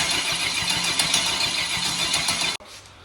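A rebuilt V8 engine churns over with a rhythmic, rumbling pulse, loud and close, then suddenly cuts off and leaves only a faint background.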